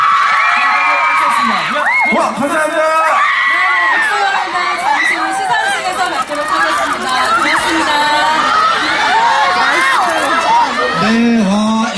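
Fans at the 2013 Melon Music Awards red carpet cheer and scream, a loud, shrill crowd roar of overlapping young voices, while a voice speaks briefly over it.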